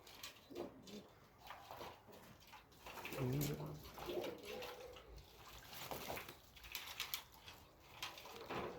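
Pigeons splash and flutter in a water bath, making soft, irregular splashes and a few coos. The sounds are faint and close, and a person speaks between them.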